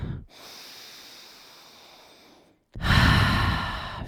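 A deep breath drawn in during a yoga session's mountain pose, a long soft airy inhale lasting about two seconds, followed after a brief pause by a louder, rougher exhale rush, close and alone without talk.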